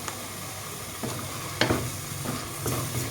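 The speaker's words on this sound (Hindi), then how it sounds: "अब इसको तकरीबन 2 से 3 मिनट तक आपको इसी तरह से इसके साथ भूनना है।" Cumin, coriander and crushed chillies roasting in a pan for Afghani reshmi makhni chicken handi, a dense constant sizzle with a few louder bursts as the spices are stirred.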